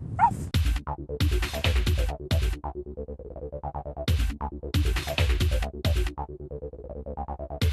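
Several police patrol dogs bark loudly and repeatedly in bursts of overlapping, echoing barks, with short pauses between volleys, close to the listener.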